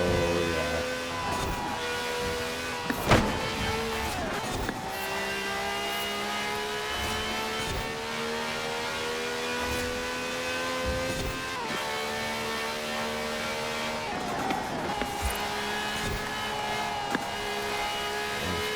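A sports car engine revs and shifts through gears while racing a custom high-speed track in Forza Horizon 4, sustained loud engine whine rising and falling with a few sharp gear-change bursts, no talk.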